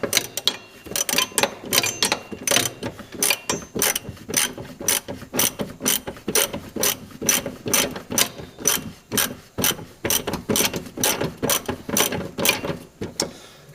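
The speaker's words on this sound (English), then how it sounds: "So now I'm going to start ratcheting things." A ratchet tightens bolts on the rear upper control arm of a 2002 Honda Civic, making close, loud bursts of rapid clicking strokes that repeat in a steady back-and-forth rhythm.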